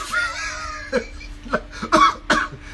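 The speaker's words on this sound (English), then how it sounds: "that cough is because of that laugh" A few short, sharp coughs in quick succession, close and fairly loud, with a breathy laugh-like sound at the start.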